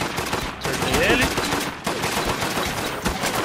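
A turret machine gun in the video game Deathgarden fires loud, continuous rapid bursts throughout, with brief gaps, and a voice is faintly heard underneath.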